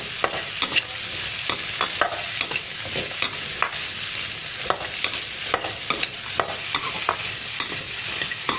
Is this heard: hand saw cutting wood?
no